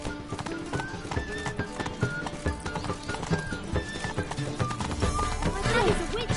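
Roach, the horse in the video game Witcher 3, gallops with a rapid, steady clip-clop of hooves and snorts, with a brief whinny near the end, while voices speak over the hoofbeats.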